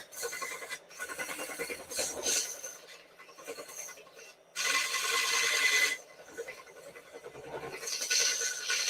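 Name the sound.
wood lathe turning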